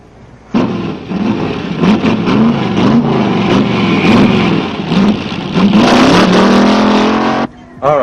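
A green car with a white top drives by close and loud, its engine revving and wavering steadily for several seconds before cutting off abruptly.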